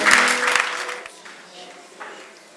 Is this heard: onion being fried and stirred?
no